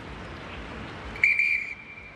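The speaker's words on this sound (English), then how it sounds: "That's the whistle to call an end to the strategy break." A referee's whistle ends a strategy break during a university rugby match in South Africa: a single sharp, shrill blast rising cleanly over low crowd and room noise, then fading.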